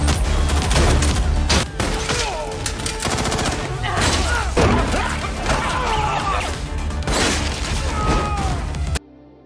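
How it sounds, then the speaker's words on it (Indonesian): Dense gunfire and crashing impacts fill a warehouse shootout scene from an action film, loud bursts of shots layered over a music score and brief voices, cutting off abruptly at the end. "tim masuk ke dalam gudang tersebut hingga baku tembak pun terjadi"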